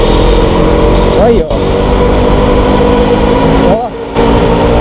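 A KTM 200 Duke motorcycle engine hums at idle, then revs sharply upward twice, close and loud, while someone briefly speaks.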